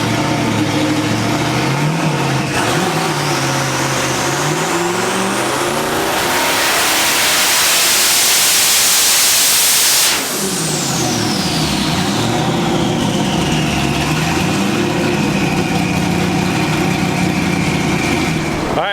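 A turbocharged car engine on a dyno pull, revving loudly as it climbs to a roaring peak with a rising whine, then cutting off sharply and dropping back to a rough, lumpy idle that rises slowly again, very close and loud.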